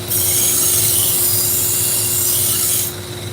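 Steady abrasive rasping of knives being sharpened in a sharpening shop, a continuous close grinding hiss with a low motor hum underneath, stopping abruptly near the end and leaving only the hum.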